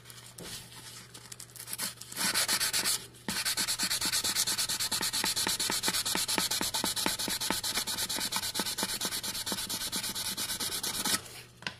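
Wet sanding of an aluminum wheel with 1000 grit sandpaper, a close, steady scrubbing rasp of rapid back-and-forth strokes that runs almost continuously, briefly pausing early on before resuming loud and even.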